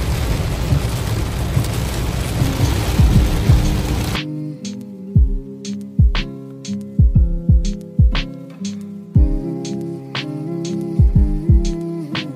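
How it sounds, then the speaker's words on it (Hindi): Heavy rain pours down during a drive in the Cameron Highlands, a dense, loud hiss for about four seconds before it cuts off and gives way to sparse, rhythmic thumps. "अभी देखो रास्ते में इतनी गंदी बारिश शुरू हो गई है कि आगे कुछ नजर नहीं आ रहा"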